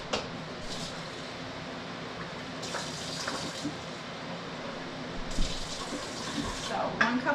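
A cup of water is poured from a kitchen tap for homemade chocolate syrup, making a steady, soft rushing flow with a few brighter splashy swells near the end.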